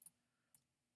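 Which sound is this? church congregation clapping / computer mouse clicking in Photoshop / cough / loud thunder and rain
computer mouse clicking in Photoshop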